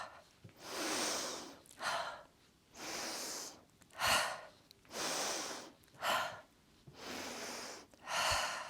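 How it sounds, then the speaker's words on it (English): Rhythmic breathing in a qigong practice: slow, airy inhales alternate with drawn-out breathy ha exhalations, about eight breaths close to the listener, soft and unhurried with no talking. "You can add this ha sound if you like."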